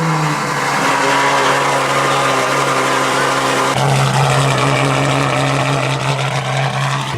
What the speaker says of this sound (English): It's time for a cold start